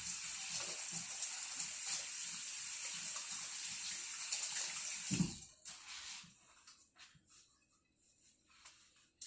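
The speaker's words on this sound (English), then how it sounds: "So let me wash my hands." A kitchen tap runs loudly and steadily while hands are washed under it, then shuts off halfway through, leaving faint handling noises and drips.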